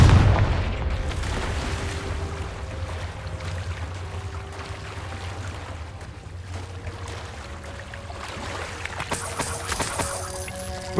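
In the Hogwarts Legacy video game, a Confringo fire spell sets off a loud explosion right at the start, and its booming rumble fades into a low, rushing ambient wash.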